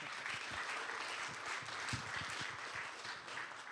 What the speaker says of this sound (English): Mr. Lennart, Byte Federal, give a warm applause